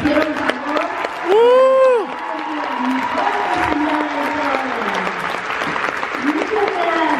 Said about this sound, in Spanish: Quiero que les demos un fuerte aplauso a los que están en el cielo, a los que están en la tierra y a mis compañeros que me hicieron favor